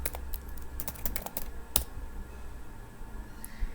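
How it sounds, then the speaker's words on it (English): A password is typed on a computer keyboard in a quiet room: a quick run of light, close key clicks, then a pause and a single sharper keystroke, with no voices. "So now we have to type a password for the user."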